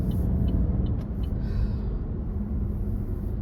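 A car drives close by on the road, its engine and tyres making a steady, loud rumble with a brief higher whine partway through, and no voices.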